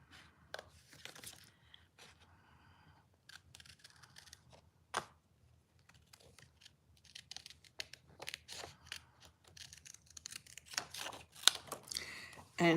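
Scissors snip paper during scrapbooking, trimming out a small printed place name; scattered short cutting and crinkling sounds come close and fairly quiet, with bursts of paper handling toward the end.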